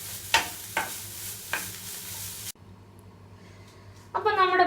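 Grated coconut roasting in a pan for Kerala sambar, with a few sharp stirring scrapes and a low sizzle, close by; a voice speaks briefly near the end.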